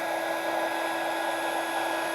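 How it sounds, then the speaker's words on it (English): A handheld embossing heat gun blows hot air in a steady, close, unbroken whine with a high airy hiss and no pauses, heard alone. "I'm going to go ahead and take my embossing gun again."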